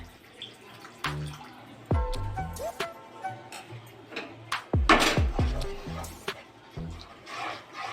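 A small splash of water poured into a pan of egg curry cooked with curd, with brief gurgling pours and clinks of the vessel against the pan nearby, each one short.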